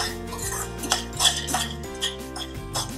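Whole spices such as mace being dry-roasted in a pan over a low flame, with light clinks and scrapes of a spoon stirring against the metal, close and intermittent over background music.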